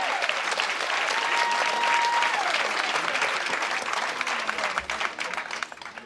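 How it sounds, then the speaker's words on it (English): Campaign rally audience applauding, dense clapping from a large crowd that holds strong, then thins and fades out toward the end. "Let's give Ronald Rice another round of applause"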